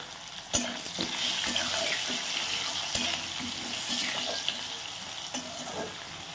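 New potatoes frying with salt and turmeric in a pan, a steady close sizzle punctuated by the scrape and clack of a stirring spoon, with no voices.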